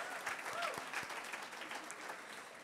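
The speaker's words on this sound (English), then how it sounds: "Give yourselves a round of applause." Audience applause at an evening awards event, a dense, steady wash of clapping from a crowd that stays loud and even throughout without fading.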